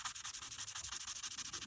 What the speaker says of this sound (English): with the sanding.